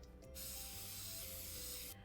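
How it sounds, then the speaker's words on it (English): Bake Easy non-stick spray hisses onto cake pans in a single continuous close burst lasting under two seconds, with faint handling noise before and after. "we're gonna spray each pan with our Bake Easy here"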